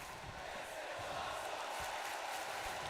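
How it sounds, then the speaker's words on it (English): A virtual arena crowd in the wrestling video game WWE 2K22 makes a faint, steady, distant roar with no distinct words. "you can hear this crowd right now chanting, "This is awesome,""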